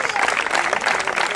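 Audience applause for the third-place finisher at a youth promotional triathlon, a dense, steady burst of many hands clapping, loud and close throughout.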